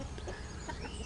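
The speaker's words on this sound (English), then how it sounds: "You can hear the cockerel in the background there." A Light Sussex cockerel clucks softly in the background, a brief, faint burst of low clucks over a quiet outdoor hum, with no talking.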